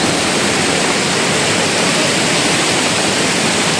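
Heavy rain pours down over floodwater in Junagadh city as a loud, dense, unbroken roar of falling water that fills the whole scene without letup or voices.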